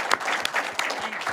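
Lively applause from a press conference audience greets Miss Peggy, a dense patter of many hands with a few sharper claps standing out, steady for the whole moment.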